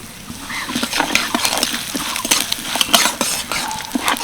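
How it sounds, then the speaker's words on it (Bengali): Sesame seeds and cumin sizzling in hot oil in a pan, with chana dal and urad dal already lightly fried, giving a steady crackle and spatter close by, with occasional soft stirring clinks. "হালকা ভেজে নিলাম এবার সাদা তিল আর সাদা জিরে দিয়ে দিচ্ছি"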